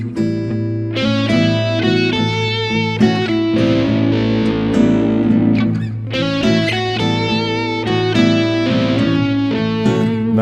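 An electric guitar with distortion plays a blues lick, quick picked notes and a few sustained bends ringing out, the phrase rising and then repeating, close and clear with no voice over it.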